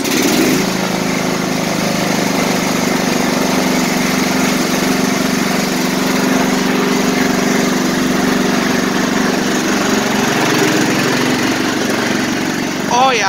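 A Scotts lawn mower engine runs steadily at close range, a continuous droning hum with no pauses, while a person talks over it now and then.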